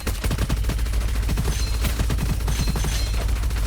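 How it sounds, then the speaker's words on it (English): Video game minigun firing in a steady, rapid stream of dense bursts, loud and continuous throughout with no voices over it. "I kind of fell in love with this minigun a little bit"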